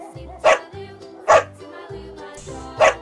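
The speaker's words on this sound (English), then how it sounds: "D for dog dog" A dog gives three sharp, loud barks spaced about a second apart, each a short close burst with quiet gaps between.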